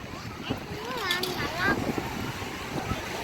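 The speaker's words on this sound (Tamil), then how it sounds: "காற்று சூப்பராக இருக்குங்க, செம்மையாக இருக்கு, அலையும் நல்லா வருது" Sea wind buffets the microphone at Tiruchendur beach while waves wash onto the shore, a continuous broadband rush with surging swells, and people talk over it throughout.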